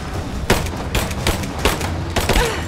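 Gunfire in a shooter video game: loud, close bursts of shots crack out in a steady rhythm, roughly five or six volleys spaced evenly over a few seconds against a constant noisy backdrop.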